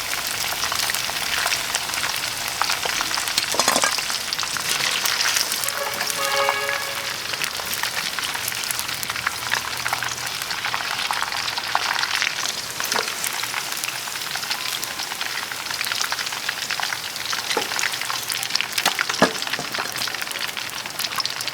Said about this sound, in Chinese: 把它弄出来，然后再炸那个土豆